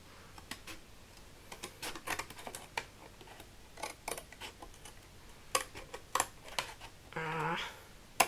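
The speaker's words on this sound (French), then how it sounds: "Je vais revenir couper au ciseau." Scissors snip through fabric while making a mask storage box: a quiet series of sharp, irregular close-up clicks and cuts, ending in a longer scraping cut.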